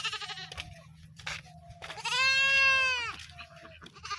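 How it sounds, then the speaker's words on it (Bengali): A goat bleats beside a sunny road, with a few short cries followed by one long, loud, wavering bleat close by over a quiet background. "এত রোদের মধ্যে একটা ছাগল কিভাবে ভেবাচ্ছে,"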